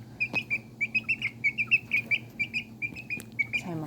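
Serama bantam chicks eating chick feed from a hand, giving a steady run of short, high peeping chirps in a regular rhythm, close and clear over a faint low hum.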